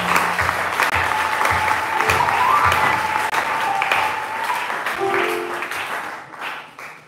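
A church congregation at a Christian teaching seminar breaks into loud, sustained applause, dense clapping filling the room for several seconds before gradually thinning out.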